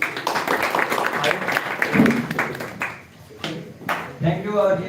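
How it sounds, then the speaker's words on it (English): An audience at a Quaid celebration claps once again for a girl. Scattered claps come in loose bursts, mixed with talking, and thin out before a few more claps near the end. "Ladies and gentlemen, please once again clap for her."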